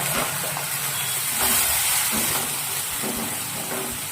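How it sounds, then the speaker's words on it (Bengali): Ginger-garlic paste sizzling in a pan after a splash of water, a continuous loud hiss and steamy crackle that holds steady throughout and fades at the very end. "আদা রসুন পেস্ট করেছি যেটা সেটা একটু জলটা দিয়ে দিলাম"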